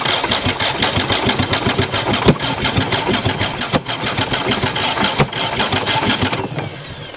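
A Ram van engine starting and then running rough and misfiring, loud and close, with a dense uneven chugging and several sharp knocks, dropping off near the end.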